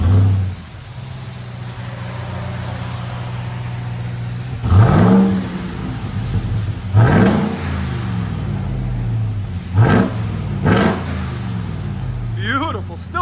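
A 2023 Ram TRX pickup's 6.2-litre HEMI V8 with factory exhaust idles with a deep rumble, then revs hard several times in quick bursts, each roar rising and falling back, loud and close.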